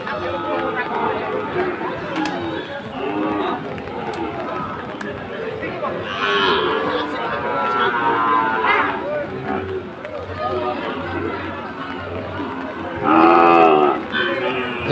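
Sahiwal cattle at a rain-soaked cattle market in Chattogram during Eid, with a couple of deep, drawn-out moos rising over constant crowd chatter and nearby talking.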